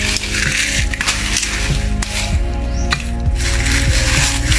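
A homemade lizard trap built from wood is tested, giving repeated ratcheting mechanical clicks and clunks at close range, loud and steady throughout.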